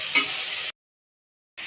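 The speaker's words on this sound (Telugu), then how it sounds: "ఆనియన్స్ వేసి ఇలా మనం వీడియోలో చూపించిన విధంగా రెడ్డిష్ కలర్లో వచ్చేంత వరకు వేయించుకోవాలి." Onions for veg biryani fry in a pan with a steady, bright sizzle and a brief stirring scrape. The sound cuts out abruptly, then the sizzle returns.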